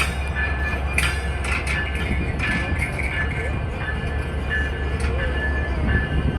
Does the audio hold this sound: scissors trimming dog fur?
no